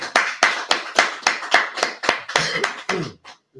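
Rhythmic group clapping, about a dozen loud, evenly spaced claps in steady beat close by, tapering off at the end with no talk over it.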